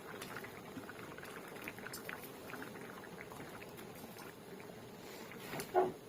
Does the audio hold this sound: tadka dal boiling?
yes